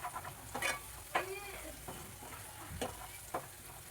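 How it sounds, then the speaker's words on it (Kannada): Spice masala with chili powder fries quietly in a pan on low heat, a soft sizzle broken by several scraping, stirring strokes of a spoon, close and fairly faint. "ಇವಾಗ ಎಲ್ಲ ಇದು ಸ್ಲೋದ್ರಲ್ಲಿ ಇಟ್ಕೊಂಡು ಸ್ಟವ್ ಉರಿ ಫ್ರೈ ಮಾಡ್ಬೇಕು, ಮಿಕ್ಸ್ ಮಾಡ್ಬೇಕು."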